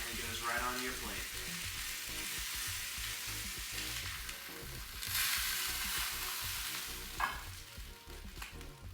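Steak frying in a hot pan, a steady close sizzle and crackle that swells briefly midway, with faint movement of the meat and no talking over it.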